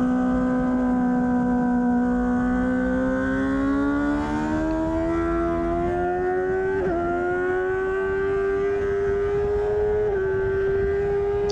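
600cc sport motorcycle at high revs on a racetrack, a loud continuous engine whine climbing gradually through the gears with brief shifts, close-up as if from the rider's seat.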